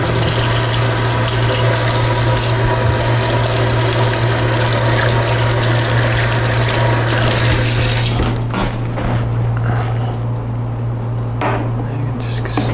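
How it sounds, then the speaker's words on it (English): Food rinsed under a running tap: a loud, steady rush of water with a constant hum beneath, easing off near the end, with a voice speaking over it. "So let me go ahead and wash."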